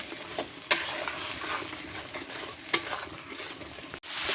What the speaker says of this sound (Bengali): হলুদ, লবণ স্বাদ মতো, গুঁড়ি দিয়ে এখন সুন্দর করে মশলাটা কষিয়ে নেব